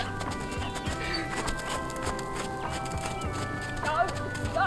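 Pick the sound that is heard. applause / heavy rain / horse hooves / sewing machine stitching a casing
horse hooves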